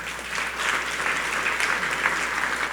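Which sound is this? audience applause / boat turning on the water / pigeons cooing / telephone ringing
audience applause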